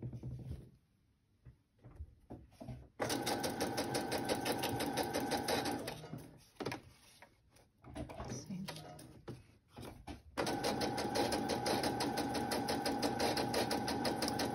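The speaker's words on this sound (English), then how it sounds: "So I'm going to straight stitch this." A sewing machine straight-stitches fabric on a bag, running in long steady bursts of rapid mechanical chatter with a brief pause and shorter stop-start runs in between, close and clear.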